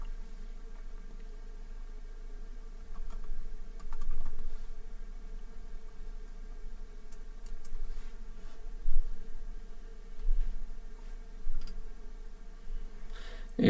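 Someone types a password on a computer keyboard, soft irregular clicks and taps of keys heard fairly close over a low steady room hum.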